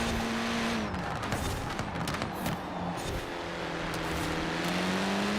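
A car in Forza Horizon 4 slides through a turn, its engine tone rising and falling steadily while tire noise hisses underneath, loud and continuous for several seconds.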